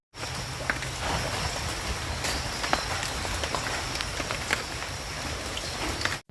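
Heavy rain pours down steadily, a dense unbroken hiss of drops on surfaces that holds at a constant level from start to finish with no voices.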